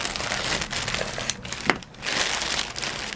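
Plastic wrapping of a fabric package crinkles and rustles close by as it is cut open and unwrapped, with a brief snip and a short lull in the middle.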